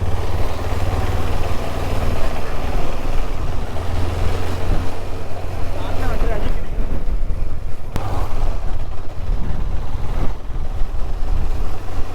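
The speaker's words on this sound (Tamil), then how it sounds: "நல்லா காற்றடிக்குது." Loud, steady wind buffets the microphone with a continuous low roar during a motorcycle trail ride near Ponmudi, sounding like open-air travel, with no voices.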